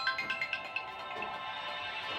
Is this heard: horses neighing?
no